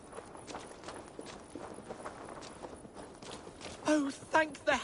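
Horse hooves clip-clop through steady footfalls in Assassin's Creed Valhalla, with louder hoof or horse sounds bursting out near the end over background game voices.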